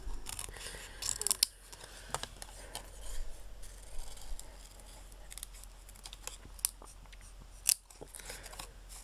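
Scissors cutting out small paper characters, with close, soft snips and rustling paper in an irregular rhythm, fairly quiet with a few sharper clicks of the blades.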